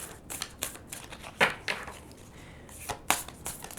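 Tarot cards are shuffled close up in a quick run of crisp riffling and slapping bursts with short pauses between them, fairly quiet and unaccompanied by talk.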